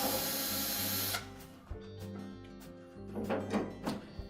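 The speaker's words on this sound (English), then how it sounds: "That will give us access to two Phillips screws that secure the top to the inlet duct assembly, and we'll need to remove those" A cordless driver whirs in short bursts, backing out two Phillips screws from the top of a Whirlpool dryer, a steady hiss giving way to stop-start motor runs and faint clicks, close-up with no talking.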